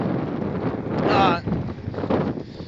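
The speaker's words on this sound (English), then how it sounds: "Goddamn wind." Gusty wind buffets an outdoor microphone in Wisconsin, a rumbling low roar that swells loudest around the middle and keeps rustling under a man's speech throughout.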